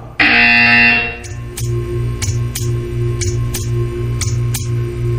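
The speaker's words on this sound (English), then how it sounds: "You will hear a buzzer. When you hear the buzzer, stare at the art." A loud, harsh electronic buzzer in the video game Portal 2 blares for about a second, then gives way to a quiet, regular series of ticking clicks over a low hum.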